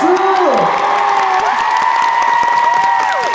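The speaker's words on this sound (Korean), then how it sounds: "박수!" Dense, loud cheering and applause from a K-pop concert crowd, with high shrieks and whoops riding over steady clapping throughout.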